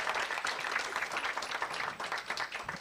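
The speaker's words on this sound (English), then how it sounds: "Pigeni makofi jamani, round of applause." A conference audience claps together in a steady, fairly quiet round of applause, the dense patter of hands continuing evenly from start to finish.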